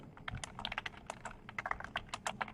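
Fingers type on a computer keyboard in a steady run of crisp, close key clicks, irregular and quick, with no talking over them.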